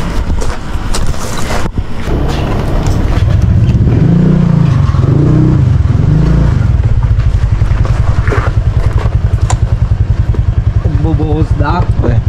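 A motorcycle rides and revs on a road heading to a construction project site, its engine loud and close with rising and falling pitch, wind buffeting the microphone, and a person speaking over the engine noise.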